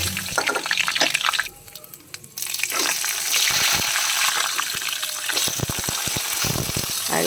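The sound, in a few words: dried chillies, five-spice, bay leaf and ginger paste frying in oil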